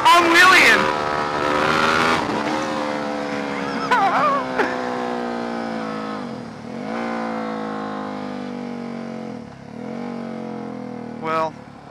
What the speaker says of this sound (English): Highway wheelies! Yeah, I'm wheeling! I'm wheeling!